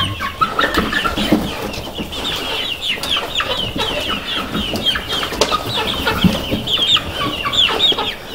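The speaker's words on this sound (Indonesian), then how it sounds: "bagaimana reaksi si ayam pada saat ini sudah memang waktunya makan" Chickens cluck and squawk busily at feeding time, several birds at once, close by and continuous, with occasional sharper calls rising above the flock.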